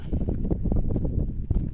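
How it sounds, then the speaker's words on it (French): Rising wind outdoors at Edoras, New Zealand, buffets the microphone in gusty, rumbling low bursts that stay fairly loud and uneven throughout. "Il y a le vent qui se lève quand même"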